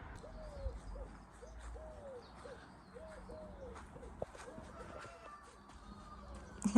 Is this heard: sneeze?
no